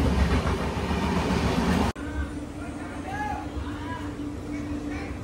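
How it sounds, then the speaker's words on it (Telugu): A passing train rumbles loudly past a stopped train at Bellampalli station, then cuts to a quieter platform hum with faint higher tones. "బెల్లంపల్లిలో మన ట్రైన్ ఓవర్టేక్ చేస్తుంది"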